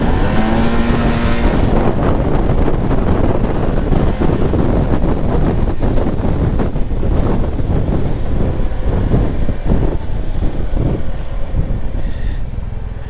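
A 2024 Yamaha T-Max 560 scooter accelerates hard in S mode, its engine note rising loud and close, buffeted by strong wind rush across the microphone, with no talk.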